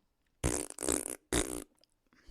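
A voice mimics a fart, making three loud, buzzing blasts up close, the second one drawn out longer, followed by a faint breath.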